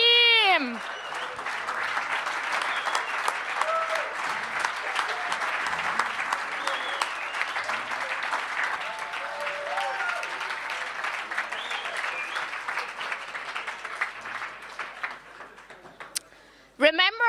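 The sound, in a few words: audience applause for startup pitch teams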